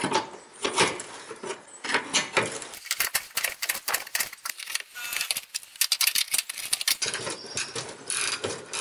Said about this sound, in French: Allez, on y va avec une clé de 17.